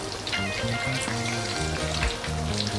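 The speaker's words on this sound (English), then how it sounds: "We have to fry all this eggplant, which is we already cut" Eggplant pieces fry in a hot pan for a fried eggplant chilli sauce dish, giving a steady, dense sizzle and crackle that stays close and even throughout, with no voices.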